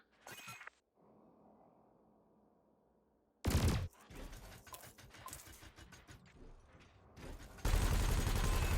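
Ship weapons fire at canisters in the space game Elite Dangerous. Loud bursts of rapid fire come in separate volleys with quieter stretches of hum between them, ending in a long roaring blast.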